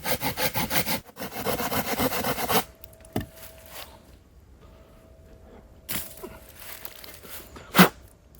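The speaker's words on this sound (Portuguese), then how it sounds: "A meio caminho vou serrar até meio da grossura." A hand saw rasps through a log in quick, rhythmic back-and-forth strokes, cutting to half its thickness, then stops, leaving near quiet broken by a few faint knocks and a sharp tap.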